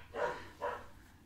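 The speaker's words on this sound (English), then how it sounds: "Don't mind my dogs barking." Two quick barks from a dog in a home, close and moderately loud, spaced under half a second apart, no talk.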